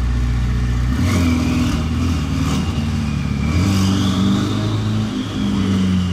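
A car engine revs loudly and steadily throughout, its pitch rising and falling through several throttle blips, with no talk over it. The car has wheel rims that stick out past the tyres and small fins added along the sides.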